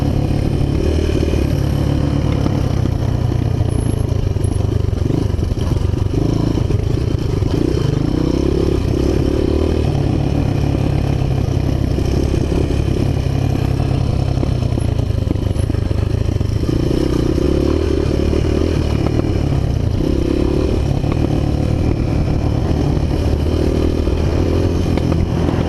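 A Honda XR 200 motorcycle rides along a dirt track, its engine droning steadily and close throughout with rising and falling throttle, plus occasional clatter and scraping from the bike.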